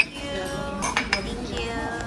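Side dishes being set down on a table in a Korean restaurant in Los Angeles' Koreatown: a few sharp clinks of dishes and cutlery near the one-second mark over a steady dining-room murmur.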